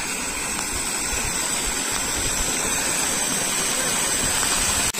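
Steady, loud rush of floodwater overflowing a bridge after heavy rainfall, pouring and gushing continuously, a broad roar filling the whole stretch with no voices.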